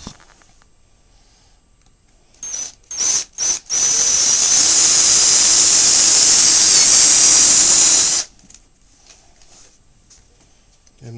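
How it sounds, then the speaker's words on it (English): A cordless drill with a 3/8 bit whines in a few short bursts, then runs steadily for several seconds at close range drilling holes before cutting off, with no voices. "I have a regular cordless drill with a 3/8 drill bit in it."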